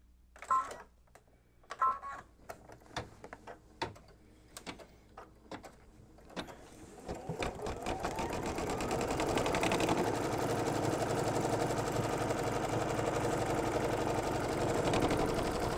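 An embroidery machine stitches batting down for an in-the-hoop mug rug, starting with scattered ticks and taps and then settling into a steady, close, whirring run of rapid stitching.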